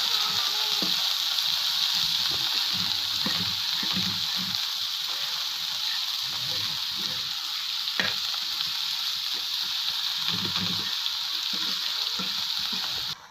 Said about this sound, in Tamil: இஞ்சி பூண்டு பேஸ்ட்டு, இப்போ எல்லாத்தையும் நல்லா நம்ம வதக்கிக்கலாம்.